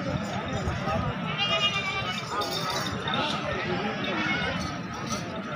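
A goat with two kids at a crowded livestock market, giving short bleats over constant chatter, shuffling hooves and the close voices of people talking.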